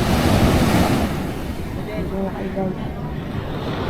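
Sea waves wash onto a white sand beach at Dinadiawan in Dipaculao, Aurora, as a steady surf roar with wind noise on the microphone. Faint talk sits underneath.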